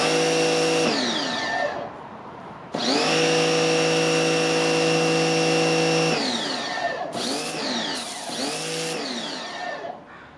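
A SunJoe SPX3001 electric pressure washer fitted with a 0 degree tip blasts scrap cedar, its loud whining motor starting and stopping in bursts, with brief spray hiss between runs.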